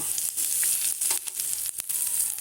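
Asafoetida dropped into hot oil for a Bengali dhokar dalna, giving a loud, steady sizzle with a few brief dips, close and alone with no talk.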